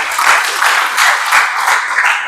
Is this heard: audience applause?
yes